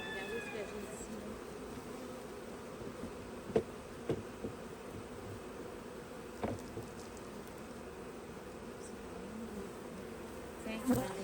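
Honey bees buzz around a beehive being readied for winter and the honey harvest, a steady close droning hum with a few louder passes near the listener and some faint voices underneath.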